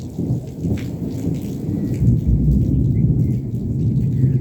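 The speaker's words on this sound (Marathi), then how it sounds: "ढोल ताशा गरजत असल्यासारखा ढगांचा आवाज होतोय." Deep rolling thunder rumbles through steady heavy rain, loud and close, with no talking.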